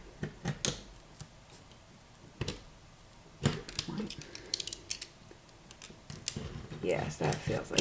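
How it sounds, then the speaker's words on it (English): Scissors cut through a thin metal can for craft embellishments, making quiet scattered snips and crisp metallic crunches in irregular bursts, close to the microphone. "I cut it with scissors to get it not to be a can anymore"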